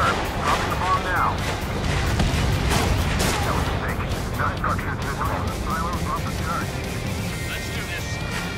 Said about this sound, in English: Dropping the bomb now.